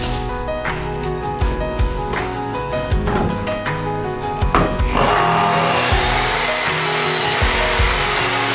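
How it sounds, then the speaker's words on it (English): A power saw cuts wooden crown molding for a custom hall tree, close and loud, with repeated sawing bursts before settling into a continuous roaring cut. "So what you're seeing here is me cutting the crown molding completely wrong."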